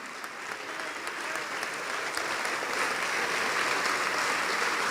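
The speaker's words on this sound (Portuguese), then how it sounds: "Vamos aplaudir mais ao nome de Jesus." A church congregation applauds steadily at a televised service, a broad wash of many hands clapping that swells slightly toward the end, with no voices standing out.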